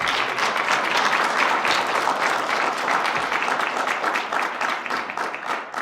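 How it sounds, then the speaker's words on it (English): Applause from the audience at a mayor's State of the City address in Reading, dense sustained clapping from a large crowd, loud and even, tapering slightly at the end. "That deserves a round of applause,"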